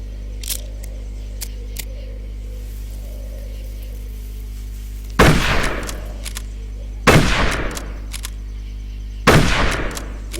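Three loud, close rifle shots in the Darkest of Days video game, each a sharp blast with a ringing tail, spaced about two seconds apart after a quiet stretch of faint clicks over a low hum.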